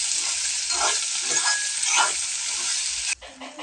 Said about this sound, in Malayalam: ഇളക്കുന്നു.